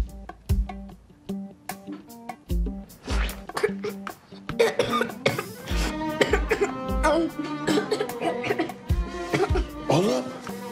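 Boy in a Turkish TV drama coughing repeatedly in rough bursts, mixed with loud emotional background music and other voices, the coughs close and irregular across the scene.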